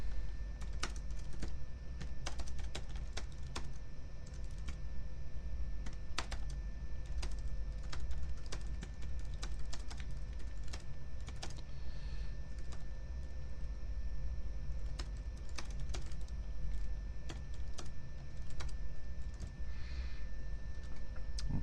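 Someone types a short paragraph on a computer keyboard, a steady stream of close, crisp key clicks with an irregular rhythm that goes on throughout, with no talking.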